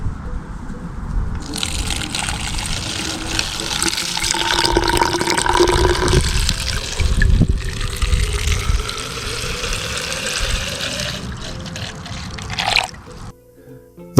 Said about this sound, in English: Pour water into the bottles and let it work.